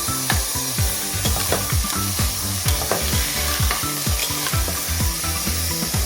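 Tomatoes go into a hot frying pan for an aloo tomato curry, with a constant loud sizzle broken by quick repeated scraping and stirring clicks, close up and with no talk.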